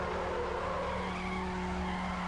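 A Mazda MX-5 slides through a drift race in Need for Speed Underground, its tires squealing in one continuous, loud skid over steady engine noise.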